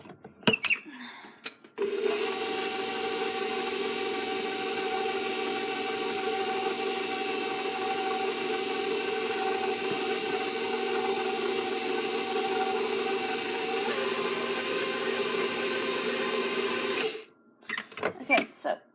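A stand mixer with a paddle attachment churns chocolate banana bread batter in a steady, close whirring motor drone for about fifteen seconds, starting and stopping abruptly, with a soft rhythmic slap of batter beneath.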